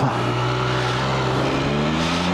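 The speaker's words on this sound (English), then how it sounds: "Start it up. I put it into first. No clutch. And I take off." An Italian touring motorcycle engine pulls away in first gear, its loud, close note rising steadily in pitch as it accelerates alone without talk.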